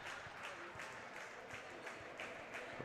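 Ralston fans clap at a high school volleyball match against Beatrice, a steady, moderately loud patter of crowd applause with no one talking over it.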